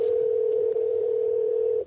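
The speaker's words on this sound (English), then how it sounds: "I gotta make a phone call to Michelle." A steady telephone dial tone hums on a single pitch for nearly two seconds, close and clear, as a phone call is about to be made, with no voices.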